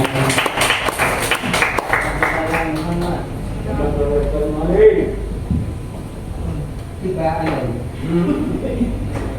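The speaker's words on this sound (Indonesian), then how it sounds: "Beri tepuk tangan yang meriah, Bapak Ibu" An audience applauds to welcome a speaker at a school workshop, with a burst of clapping at the start fading as a voice speaks over it.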